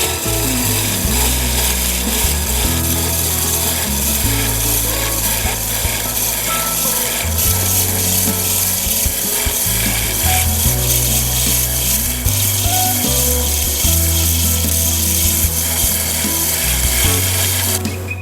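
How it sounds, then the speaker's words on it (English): A cupped carbide cutter slices into exotic wood spinning on a lathe while a hat-shaped bowl is turned, giving a continuous scraping, rasping hiss over the motor's steady hum, close and fairly loud throughout. "It's a cupped carbide cutter, and it cuts very smoothly"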